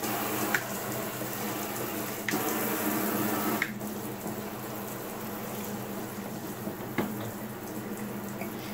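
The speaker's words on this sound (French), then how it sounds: "je peux ouvrir mon robinet d'eau chaude à nouveau. Et on peut prendre une petite douche." Hot water runs from a shower handset fed by a CLAGE CEX9 instantaneous water heater set to 37 degrees, a steady hiss of spray throughout with a few faint clicks and no talk.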